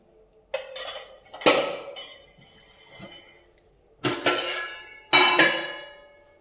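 A kadai set on the stove before oil goes in for jowar flour upma, giving a few sharp metallic clanks and rattles with quiet gaps between them.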